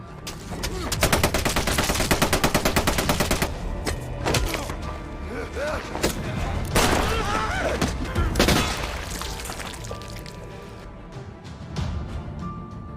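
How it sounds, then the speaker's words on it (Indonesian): Rapid gunfire from a war film set among German troops crackles in dense bursts, loud and close at first, then thinning into scattered shots and booms. "Mendengar suara tembakan yang beruntun"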